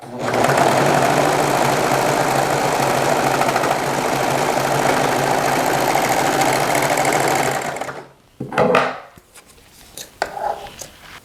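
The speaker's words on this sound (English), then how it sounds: "just go ahead and serge all the way down by cutting off this little tail" A serger overlock machine sews and trims a napkin edge in a loud, continuous whirring run up close for about eight seconds. Brief handling noises follow once it stops.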